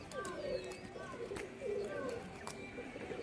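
Rajshahi Giribaz performing pigeons clap their wings during a flight display, giving a few sharp, scattered cracks at a distance over open outdoor ambience, with faint cooing and voices in the background.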